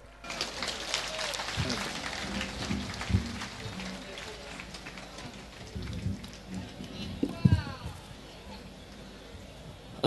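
Applause at a Pakatan Harapan political rally in Muar, Johor, a sustained hiss of many hands clapping that resembles steady rain, with a few louder claps standing out and a voice briefly heard.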